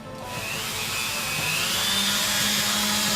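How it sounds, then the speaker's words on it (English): A handheld Dremel rotary tool whines as it grinds the edges of craft foam, a steady high-pitched buzz that rises and holds loud and close. "I'm going to turn on my Dremel"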